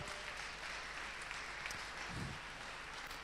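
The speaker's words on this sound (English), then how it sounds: "Give them once more a big applause" Audience applause after final pitches at a wood-themed hackathon event, a steady wash of clapping from a crowd that sounds somewhat distant and continues evenly throughout.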